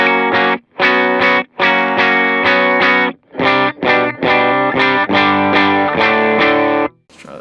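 Electric guitar played through an HX Stomp amp model with gain, reverb and delay rings out in loud, distorted chords and notes, struck in bursts with brief gaps and a washy trailing tail.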